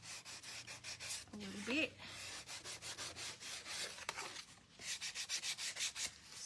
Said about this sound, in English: I'm going to sand this back